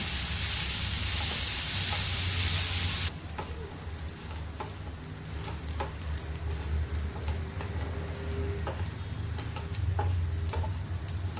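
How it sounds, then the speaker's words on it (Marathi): Sliced bitter gourd (karela) frying in oil in a kadhai gives a loud hiss at first, then settles into a steady crackling sizzle with scattered pops and stirring scrapes, close up. "तेलामध्ये चांगली भाजी भाजून घ्यायची चांगली फ्राय करून घ्यायची"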